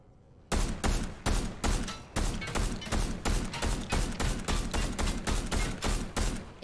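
Rapid gunfire in Fortnite, a steady run of about twenty loud sharp shots at an even rhythm, close and dominant with nothing else heard.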